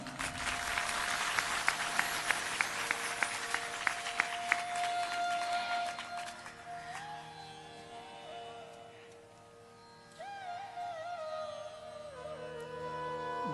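Dense clapping from an audience at a Hindu devotional satsang gathering, loud and steady for several seconds before fading as sustained musical tones and a singing voice take over.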